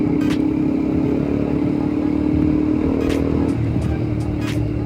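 Kawasaki Ninja 250 RR Mono SL motorcycle engine running steadily at a low idle hum, a continuous near drone with brief higher whooshes and clatter toward the end, no talk.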